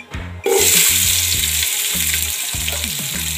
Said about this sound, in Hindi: ऑयल हमारा गर्म हो चुका है, इसके अंदर मैं डाल दूँगी ये प्याज